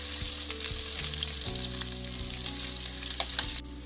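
Sliced onions frying in hot mustard oil make a loud, steady, close sizzle that runs unbroken for a few seconds and then cuts off abruptly.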